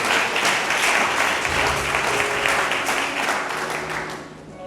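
A church congregation bursts into sustained applause, dense and loud, clapping steadily before tapering off toward the end.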